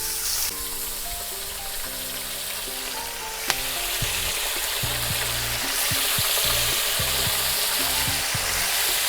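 A second batch of wild boar meat frying in a kazan for a Romanian-style stew, a loud dense sizzle and crackle that holds steady throughout, with one sharp knock partway through.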